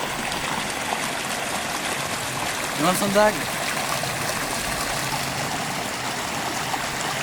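Spring water flowing steadily in a stream along a hiking trail up to a waterfall, forming a continuous broadband rush throughout, with a brief voice speaking over it midway.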